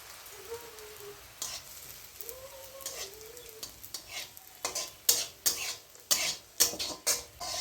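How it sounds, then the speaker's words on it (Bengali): Small dried shrimp fry in pungent mustard oil with a steady close sizzle. Spatula stirs scrape through it repeatedly, growing louder and more frequent toward the end. No one speaks. "শুকনো চিংড়ি মাছগুলো আমি একটু তেলের উপর দিয়ে ভেজে নিচ্ছি"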